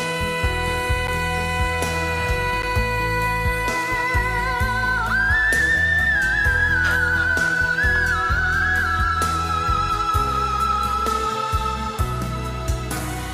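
A singer's voice rises into a very high, thin whistle-register note, sustained and wavering over a full musical backing with steady instrumental accompaniment.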